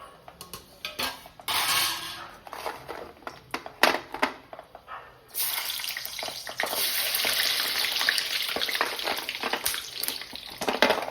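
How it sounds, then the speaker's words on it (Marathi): A frozen french fry dropped into hot oil, first scattered crackles and pops, then a sudden sustained loud bubbling sizzle that continues close and steady. "इथं तेल गरम झालेलं आहे, बघू आपण एक टाकून"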